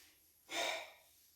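One sharp, breathy intake of breath during a Pilates exercise, a brief close airy rush that swells and then fades within half a second, with no talking.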